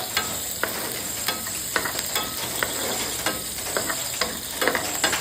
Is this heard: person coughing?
no